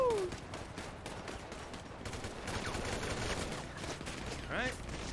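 Sustained rapid gunfire rattles through a GTA NoPixel role-play shootout at a prison with Department of Corrections officers, a dense continuous barrage with voices mixed in.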